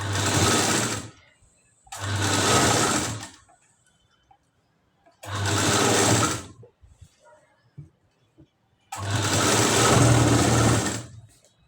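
Sewing machine stitching piping around the neckline of a katori blouse, running in four loud, steady bursts of about a second or more each, separated by short quiet pauses.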